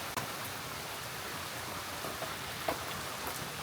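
Rain hits a window as a steady broadband hiss with a few faint, scattered droplet taps, constant and soft throughout.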